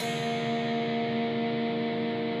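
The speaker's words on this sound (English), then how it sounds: "Following that, you're going to pick your bottom 3 strings in an upward motion." Open low strings of an electric guitar sustain together as a single ringing chord picked upward, steady and close for the whole stretch with no other sounds.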